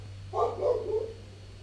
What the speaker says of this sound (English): All the dogs are barking, so I think the mailman's gonna come and you're gonna hear it over the YouTube.